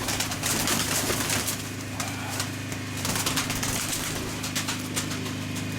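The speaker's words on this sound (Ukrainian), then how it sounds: "От голубка." Pigeons coo in a loft of birds kept for sale, a steady layered low cooing throughout with faint clatter behind it.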